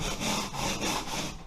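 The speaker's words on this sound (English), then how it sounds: "we'll take a sanding block with some coarse grit sandpaper, like 80 grit or so" Coarse 80-grit sandpaper on a sanding block rubbing back and forth over a plywood subfloor during vinyl plank flooring prep, a steady close scratchy rasp in repeated strokes with no talking.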